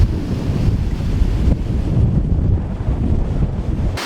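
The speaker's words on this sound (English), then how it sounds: "The wind has kicked up a little bit." Gusty wind buffets the microphone beside a waterfall on a cloudy day, a steady loud low roar of rushing air and falling water filling the whole stretch, with a brief lull partway through and no voices.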